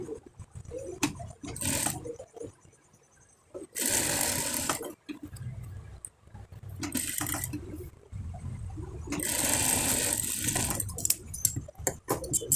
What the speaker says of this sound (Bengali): সাইডের ফাড়াটা সেলাই দিয়ে দিতে হবে